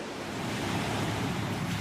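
Ocean surf washes steadily along a New Jersey shore, a broad, even hiss of waves with no breaks, moderately soft and close.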